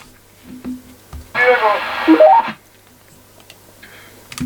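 A faulty radio receiver hisses with a burst of static for about a second, a faint voice beneath, then falls back to quiet background noise.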